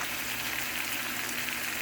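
Franks chicken sausage frying in a pan, a dense, even sizzle and crackle held close and steady from start to finish.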